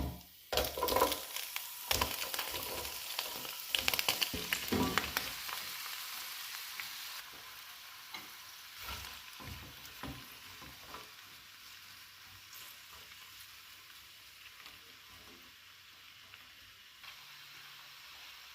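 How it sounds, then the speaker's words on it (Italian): Fennel frying in a pan of oil scented with a bay leaf and a sprig of rosemary, a loud crackling sizzle with stirring clatter at first, then settling into a quieter, steady hiss. "L'olio è profumato e aggiungiamo in padella i finocchi."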